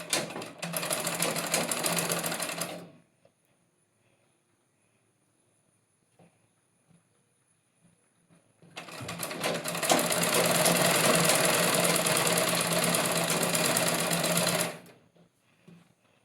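A sewing machine stitching kasavu dhoti fabric runs in two loud bursts, a short whirring run at the start and a longer steady one later, separated by near silence with faint handling noises.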